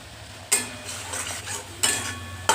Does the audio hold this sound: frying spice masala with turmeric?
yes